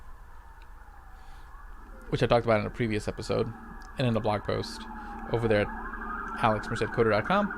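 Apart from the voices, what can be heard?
emergency vehicle sirens in Brooklyn street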